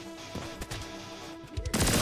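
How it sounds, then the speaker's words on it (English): Gunfire and explosions from the video game Turbo Overkill, including a rocket launcher, play as dense rapid shots over game music, ending in a loud blast. "Maybe blow those up first before I use the rocket launcher."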